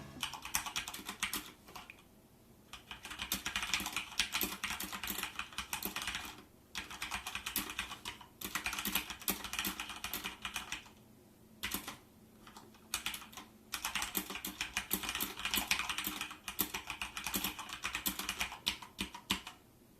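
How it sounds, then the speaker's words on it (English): Fast, continuous typing on a Corsair K65 RGB gaming keyboard, close-up crisp key clicks in bursts with short pauses between words and phrases, fairly quiet overall with no talking. "Here's a quick sound test as I type the script up."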